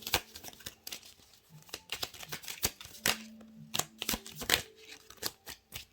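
A deck of tarot cards is shuffled close by, with quiet, rapid riffling and crisp taps and flicks of card stock in an irregular rhythm and no talking.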